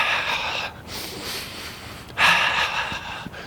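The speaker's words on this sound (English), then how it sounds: "I inhale 4 steps, I exhale 4 steps" Heavy breathing of a runner jogging in place, paced to the steps, with a long hissing exhale, a short pause, then another forceful breath, close and loud with faint footfall texture beneath.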